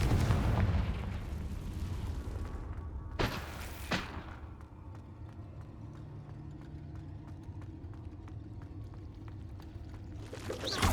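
Confringo fire spell blasts in Hogwarts Legacy: a loud burst at the start, then two sharp bangs close together, a quieter crackling stretch and another blast at the end.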